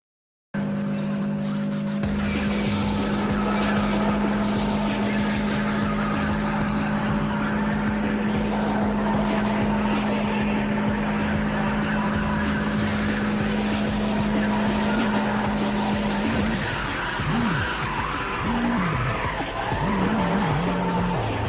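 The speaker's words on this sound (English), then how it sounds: "I like the car noises. The car sounded cool, I guess." Car engine noise from a watched video plays loudly and continuously: a steady drone that breaks into wavering pitch and skidding sounds near the end, with no talk.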